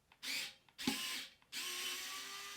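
Power drill or driver backing screws out of a polyester-coated 40oz sublimation tumbler, three short close whirring runs, the last held steadily.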